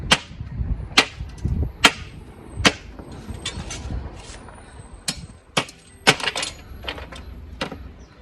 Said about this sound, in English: If some ice, needs a chop,